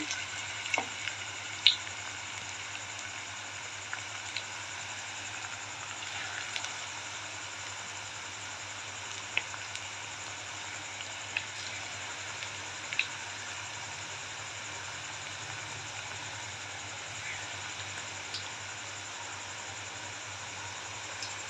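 Small bonda batter balls fry in hot oil, producing a quiet, continuous low sizzle with occasional faint pops and ticks running throughout.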